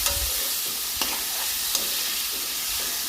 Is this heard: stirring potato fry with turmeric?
yes